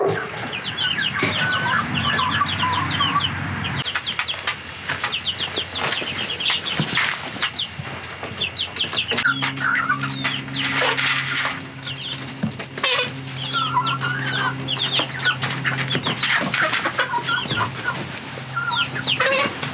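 Chickens clucking and squawking close by in a flock, with stronger birds pecking at a weaker hen, busy overlapping calls and some wing flapping throughout.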